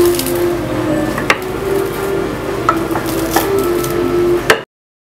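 Wheat-flour cookie dough rolled out thin on a board, with a steady low rubbing drone and a few sharp knocks and taps of the rolling pin, close and alone, ending abruptly.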